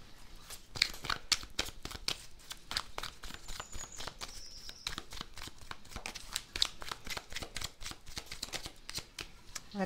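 Tarot cards riffled and flipped by hand, a steady run of quick crisp flutters and soft snaps close up, with no talking over them.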